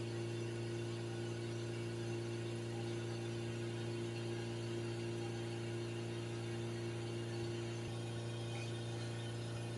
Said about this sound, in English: So I'll hold the revs for a few minutes now and see if it drops down.